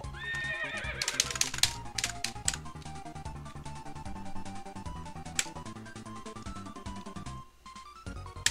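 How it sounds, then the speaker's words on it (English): A horse in the video game Draw My Guy gives a bright whinny at the start, followed by quick, clicking clip-clop hoofbeats that patter on fairly steadily before a brief lull near the end. "clip plop like a horse"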